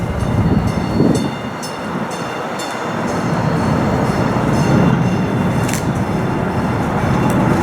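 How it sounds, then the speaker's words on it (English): Steady rumble and clatter of a MetroLink train rolling into Grand station in St. Louis, Missouri, with rhythmic wheel noise and a brief high squeal near the end. "there comes a train"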